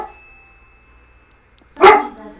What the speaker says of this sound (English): The FedEx guy came, and so my dogs went crazy, and of course they rang the bell